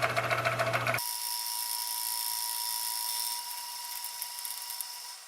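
A jointer knife blade clamped in a vise is machined down on a milling setup, a steady high whining cut with a faint ringing tone and a rougher lower rumble only at the start, loud and continuous.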